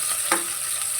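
Onion and ginger sizzle steadily in hot frying oil, with one quick scrape of a stir and no voices.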